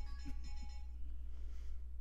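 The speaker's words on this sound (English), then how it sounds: "that's my phone going off." A phone ringtone set very loud goes off indoors during a Saturday morning netcast, a melodic electronic tone repeating a few times with a steady low hum underneath, no speech.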